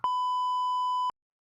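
A censor beep: a single steady electronic tone about one second long, loud and clean, starting and stopping abruptly before silence.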